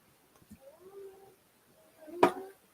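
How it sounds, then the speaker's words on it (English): Cats meow indoors in the background, a wavering drawn-out cry followed by a sharper, louder yowl, both fairly faint with quiet gaps and no clear talk. "I got the kitties tonight"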